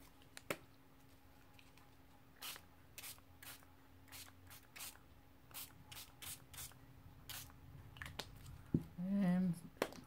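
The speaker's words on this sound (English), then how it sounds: "So kind of random I'm spraying here." Quick, sharp spray bursts from a pump bottle spraying water onto paper for an art journal page, repeated at an uneven pace, close and crisp, with a voice speaking briefly at the end.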